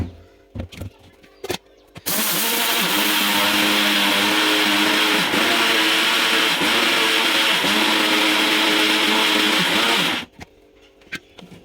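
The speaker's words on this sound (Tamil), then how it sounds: "கொஞ்சம் கொஞ்சமாக மிக்ஸி ஜாரில் போட்டு நல்லா நைஸாக அரைச்சி எடுத்துக்கணும்" A loud mixer grinder grinding rice whirs steadily for about eight seconds, a constant high-pitched motor roar that starts and stops abruptly.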